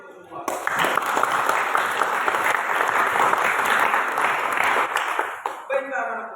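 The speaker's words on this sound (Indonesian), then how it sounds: "Oke, tepuk tangan dulu untuk semua." A classroom of automotive engineering students claps together, a loud sustained round of applause that fades near the end as a voice begins talking.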